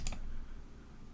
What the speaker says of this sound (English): You probably hear me pressing the keys